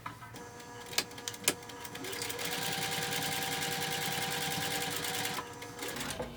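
A sewing machine stitches around a clear vinyl pouch, with a couple of sharp clicks at first and then a fast, continuous mechanical whir of needle strokes, close and steady until it stops near the end.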